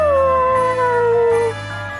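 Rover the dog lets out a single drawn-out howl in Bravely Default 2, a clear sliding tone that falls slowly and fades after about a second and a half over soft game music.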